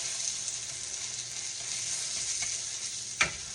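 A hoecake sizzling in a pan after being flipped, a steady bright frying hiss with a sharp scrape or tap near the end.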